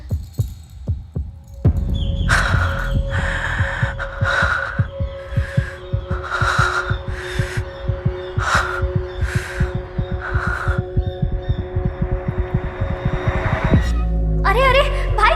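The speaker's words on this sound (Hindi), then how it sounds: "तेरी धड़कन इतनी तेज क्यों चल रही है?" Fast heartbeat sound effect thumping in a quick steady double-beat rhythm, loud and close, with a sustained hum and swelling music layered over it for most of the stretch.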